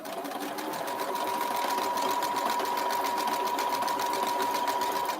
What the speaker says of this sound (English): If the sewing machine's too noisy,